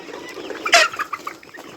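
Chickens kept by a hobby poultry keeper cluck nearby, with one louder burst of clucking standing out over softer scattered calls.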